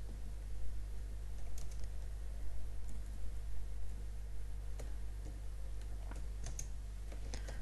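Typing on a computer keyboard, with soft, irregular key clicks in short bursts over a steady low electrical hum, fairly quiet and close.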